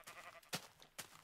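A Minecraft sheep bleats in short, quiet calls, two or three brief bleats spaced apart within a second, alone with no talk.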